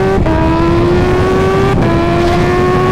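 A car engine revs loudly and steadily on board, with a distinct dip in pitch at two gear shifts, near 0.2 and 1.8 seconds, before climbing again under load.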